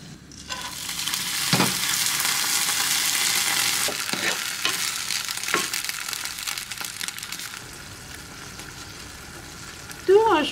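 Barberries fry in a pan with a very small amount of oil, giving a steady crackling sizzle with a few stirring scrapes, fading somewhat toward the end, where a brief clatter is heard.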